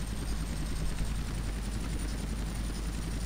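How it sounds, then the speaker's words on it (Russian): A helicopter flies in GTA San Andreas, its rotor making a loud, steady, close droning whir that continues throughout. "Здесь в GTA San Andreas можно вообще наклонить вертолет так."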